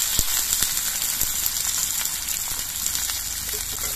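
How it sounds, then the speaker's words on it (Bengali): Chopped onions frying in hot mustard oil with black cumin, a steady close sizzle with faint scattered crackles and small clicks running throughout, no voices. "কালো জিরেটা ভাজা হয়ে যাওয়ার পর এর মধ্যে পেঁয়াজ কুচিগুলো দিয়ে দিচ্ছি"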